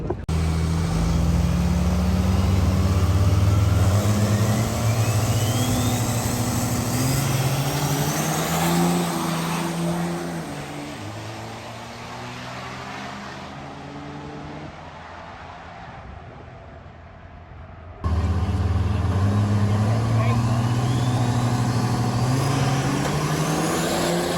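A racing truck in drag race qualifying runs at steady high revs, a loud droning engine with rising harmonics. The roar eases off midway, then cuts back in abruptly at full strength.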